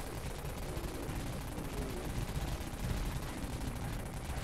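Rapid, continuous gunfire from a pocket cannon spraying three pellets per shot in the zombie shooter Dead Frontier, dense and loud throughout with no pause in the barrage.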